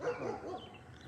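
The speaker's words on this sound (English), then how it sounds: "That's a big old dog." A big dog on a homestead gives a few quick, fairly close barks and yips, a short burst of sound with no talking over it.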